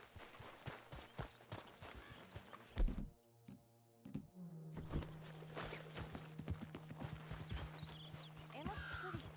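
Rhythmic horse hoofbeats clop along in the video game Red Dead Redemption 2 under a voice, with a brief quiet gap midway before the clopping resumes.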